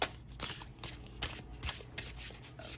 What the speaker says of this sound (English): I'll try and do a prettier shuffle for you all